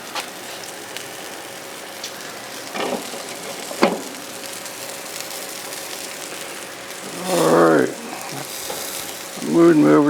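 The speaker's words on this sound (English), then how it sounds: "Moving over to some direct heat just to try and crisp up that bacon just a little bit more." Bacon crisping over direct heat on a smoker, a steady soft sizzle throughout with a few brief knocks and two louder bursts of crackling near the end.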